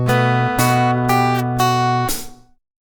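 A fingerpicked guitar plays a short pattern of plucked notes and chords from Bartolomé Calatayud's Spanish tune Vals, clear and close, ringing out and fading at the end.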